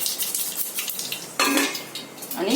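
Seeds hit hot oil in a pan, giving a bright crackling sizzle with metallic clinks of a utensil against the pot, loud and close with no talking.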